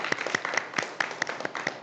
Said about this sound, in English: So let's have one more round of applause for Officer Bergeron.